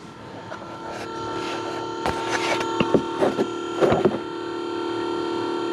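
The windshield wiper motor of a 1994 Dodge Dakota runs with a steady electric whir, with clicks and mechanical knocks from the moving wiper linkage close by.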